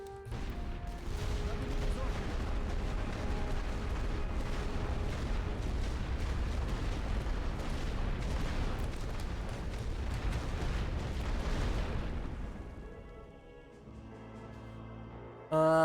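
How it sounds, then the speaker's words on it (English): An artillery barrage in The Great War: Western Front, a dense, continuous roar of overlapping blasts and rumbling impacts that holds steady for about twelve seconds before thinning into quieter game sounds. "Équipe, tir de barrage sur cette position."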